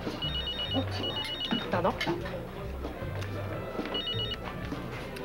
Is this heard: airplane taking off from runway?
no